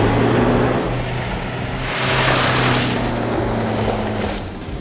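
A Land Rover Defender off-roader climbs a staircase, its engine droning steadily at moderate distance and swelling briefly as it works harder mid-climb.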